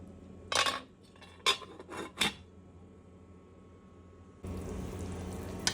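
A utensil clinks and scrapes a few times against a pot of Sylheti tomato tenga curry, with quiet gaps between strokes, then a steady watery rushing hiss takes over near the end.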